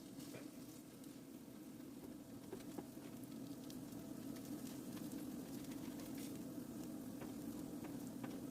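A taco burger patty fries in oil in a pan with a steady, faint sizzle and scattered small crackles and pops. It runs unbroken and no one speaks.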